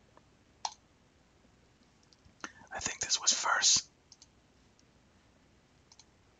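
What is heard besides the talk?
computer mouse clicking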